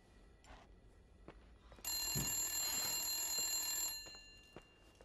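In the video game The Suicide of Rachel Foster, a telephone bell rings loud and sustained for about two seconds in a quiet room after soft footsteps and knocks, then fades away, with no talk.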